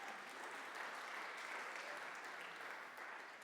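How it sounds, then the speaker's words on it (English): Audience members at a gathering applaud, a soft, even wash of many hands clapping, distant and steady throughout. "That's worthy of applause."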